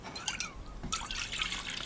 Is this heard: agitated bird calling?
no